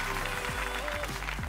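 A talent-show audience at Got Talent Uruguay 2021 gives a standing ovation, with dense, steady applause filling the hall throughout and faint voices mixed in.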